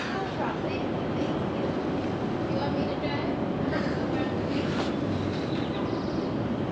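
Steady rumble and rattle of a moving Amtrak train from inside a carriage, continuous and fairly loud, with faint voices in the background.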